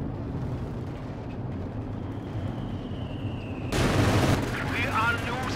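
ZiS field guns fire in the strategy game Company of Heroes 2: a low battlefield rumble suddenly bursts into a loud, broadband blast partway through, then a noisy barrage continues.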